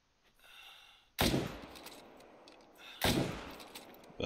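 Two loud, close hunting-rifle shots in theHunter: Call of the Wild, each a sharp crack trailing into a long rolling echo, the second following about two seconds after the first, with faint ambience between them.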